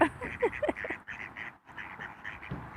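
Domestic ducks jostling for food quack repeatedly close by, a rapid cluster of loud nasal calls at first, then a steadier run of lower quacks and splashy scuffling.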